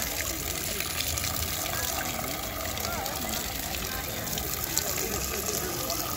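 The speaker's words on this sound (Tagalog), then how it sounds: "Ito may gripo din" Water runs steadily from an outdoor faucet in a public park in Cisterna di Latina, giving a continuous, even gush of moderate loudness that holds unchanged for the whole stretch with no voices over it.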